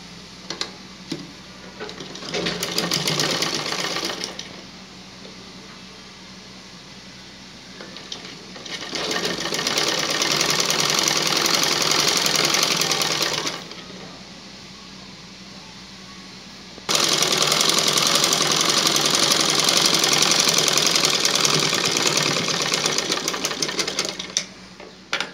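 A sewing machine stitches a folded one-inch waistband on a pair of pants in three loud, close bursts of rapid mechanical whirring, each separated by short pauses.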